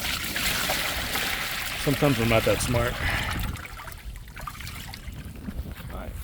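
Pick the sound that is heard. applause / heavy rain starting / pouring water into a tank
pouring water into a tank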